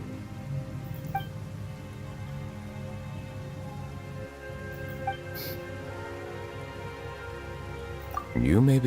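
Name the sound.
rain falling in the video game Genshin Impact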